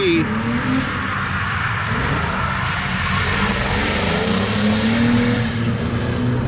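Lexus IS 300 drift car engine revving hard at a Halloween drift contest on a speedway, loud continuous engine roar with rising revs, sounding rough as if running poorly, crowd and commentary voices over it.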